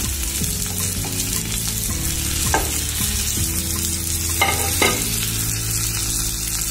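Squid frying in a pan with chilli powder, garam masala and salt, a steady close sizzle with clattering stirs from a utensil and a few sharper scrapes, no voices.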